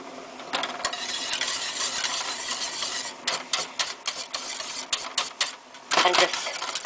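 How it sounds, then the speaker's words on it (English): A spoon stirs sheer berenge, an Iranian rice dish, in a pot on low heat, giving steady scraping and swishing that turns into a run of short, uneven scrapes and taps, close and fairly loud. "you have to stir it occasionally to prevent it sticking to the pot"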